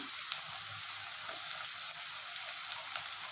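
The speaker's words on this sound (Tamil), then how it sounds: "நல்லா பச்சை வாசனை போக வரைக்கும் நம்ம கலக்கி விடலாங்க." Crushed ginger and garlic sauté with softened onions in a pan for a raw banana gravy, giving an even, continuous sizzling hiss with no talking.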